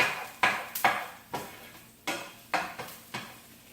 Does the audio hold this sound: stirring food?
yes